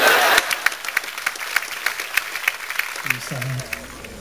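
An audience at a live spoken performance breaks into a burst of clapping, loud at first and then thinning into scattered claps, with a voice speaking near the end.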